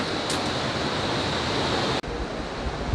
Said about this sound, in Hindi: यहाँ से पानी आता है